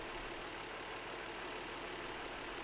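A Nissan engine idles at normal operating temperature during a base idle and timing adjustment, a steady, faint, broadband rumble that holds unchanged throughout with no voices.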